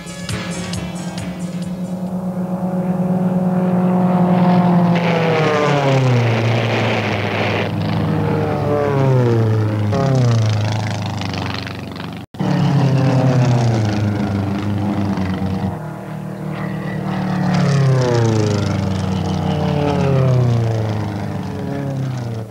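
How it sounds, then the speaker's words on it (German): Formula One class propeller racing planes at the Reno Air Race roar loudly as they take off and sweep past, their engine tones repeatedly bending downward in pitch with each close pass. "Start der Formula One-Renner. Da geht's gleich nach dem Abheben zur Sache."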